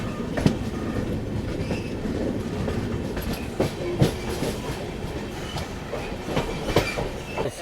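An Amrit Bharat Express train hauled by a WAP7 electric locomotive from Royapuram shed, running near Chennai with a steady rumble and repeated clickety-clack of wheels over rail joints, heard from on board with no talk.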